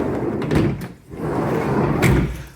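Sliding side door of a Nissan E-NV200 van, freshly lubricated, rolled back and forth on its track, with two broad rumbling runs split by a short pause and a bright clunk near the end.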